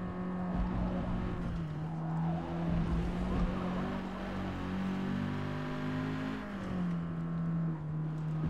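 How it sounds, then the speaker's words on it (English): An Alfa Romeo 4C on track at the Nürburgring holds a loud, steady engine drone bouncing against the rev limiter, with a sustained buzzing tone and slight pitch wavering throughout, no talk. "Hit the rev limiter."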